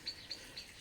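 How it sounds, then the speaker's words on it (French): Birds in a wild garden hedge give three faint, evenly spaced high chirps, with no one speaking. "Il y a tous les oiseaux."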